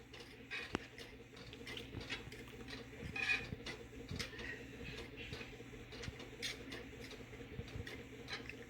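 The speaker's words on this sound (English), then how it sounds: "Remember, you have to whisk this until it starts to boil up." A whisk taps and scrapes steadily against a pot of Jamaican cornmeal porridge made with natural coconut milk, a quiet rapid clicking rhythm that continues throughout with no talk.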